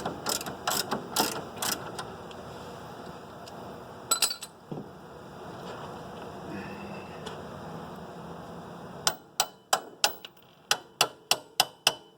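Ratchet socket wrench turning a bolt on a 1992 Honda Civic engine during removal, bursts of rapid close clicking at the start and a steady run of sharp ratchet clicks near the end, with quieter workshop noise between.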